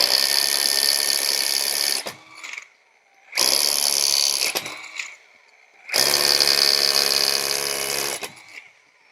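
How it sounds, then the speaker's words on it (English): A Ryobi R18SDS cordless rotary hammer in hammer mode drills into cinder block with a 12 mm bit, in three loud, close bursts of harsh rattling hammering separated by brief pauses. "drilling into a piece of cinder block. I used, or rather, I'm going to use a 12 millimeter diameter drill bit."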